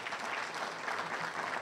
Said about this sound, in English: Can we give him a round of applause for